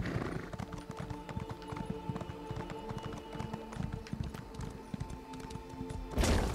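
Rapid rhythmic hoofbeats of a galloping horse in Elder Scrolls Online clatter steadily, ending in a loud burst as the horse neighs.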